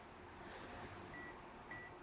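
A portable heat press timer gives two faint, short electronic beeps over a steady low hum of background noise, quiet and close by.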